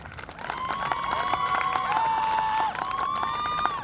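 Audience at a medical college annual day celebration clapping and cheering, a steady crowd roar with dense clapping, loud and sustained, with shouts and whistles mixed in.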